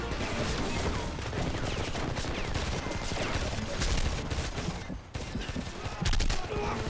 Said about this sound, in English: Machine gun, second floor window.